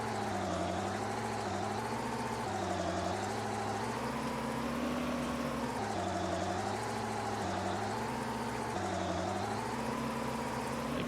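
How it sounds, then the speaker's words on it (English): Articulated tractor engine in Farming Simulator 19, a steady droning hum that rises and falls gently in pitch in a slow repeating cycle, continuous and unbroken throughout. "we're doing this with an articulated tractor here"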